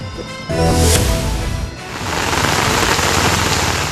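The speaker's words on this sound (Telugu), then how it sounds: "గత కొన్ని రోజులుగా కురుస్తున్న వర్షాలకు పలు ప్రాంతాలు జలదిగ్బంధంలో చిక్కుకున్నాయి" Heavy monsoon rain pours down in Telangana as a loud, dense, continuous hiss that swells slightly after a brief dip, with no voices.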